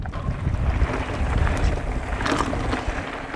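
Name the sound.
wind blowing during a mountain bike ride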